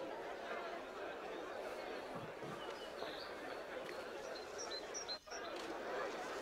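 A steady murmur of crowd chatter in the video game Assassin's Creed Mirage, many indistinct voices overlapping at a moderate distance, with a few brief higher calls rising above the hubbub.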